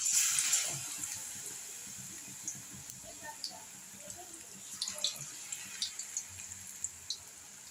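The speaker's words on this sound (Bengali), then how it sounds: "দেখুন কীভাবে ভাজা হচ্ছে।" Bok flower pakora frying in hot oil in a wok gives a steady hiss, with small bubbling crackles and pops scattered throughout, close and moderately loud with no talking.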